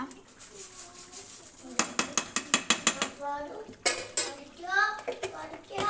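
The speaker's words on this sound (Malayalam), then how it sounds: "ഒന്നും കൂടി നല്ലപോലെ ഇളക്കി കൊടുക്കുക" A spoon stirs beef curry in a metal pan, a burst of rapid rhythmic clanks and scrapes against the pot, with a voice talking in between.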